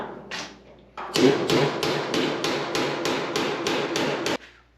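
A hammer strikes sheet metal, forming flanges into a car's wheel tub, about ten sharp, evenly spaced metallic blows close by, with no voices.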